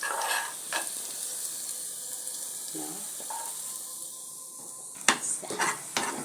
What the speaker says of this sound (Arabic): شوية بصل حمست عليها، شوية بصل.